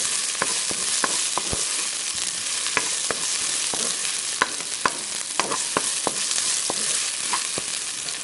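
Onions frying and being stirred in a pan for a Sri Lankan Brussels sprouts mallung, a steady close sizzle broken by frequent sharp clicks and scrapes from the stirring spoon.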